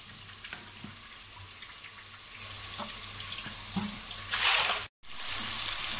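Fish is rinsed clean under water at a village kitchen, with steady running and splashing water that surges louder near the end before a brief dropout.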